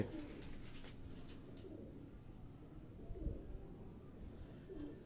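Large, heavily built pigeons cooing softly, with low murmuring coos repeating through the clip at a steady, close level and no talk.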